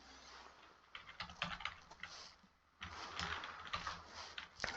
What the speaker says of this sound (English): I'm just going to type that here.